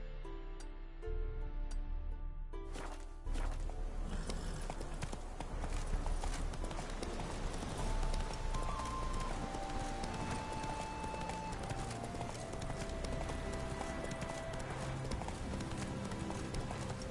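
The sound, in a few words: horse Roach galloping in the video game The Witcher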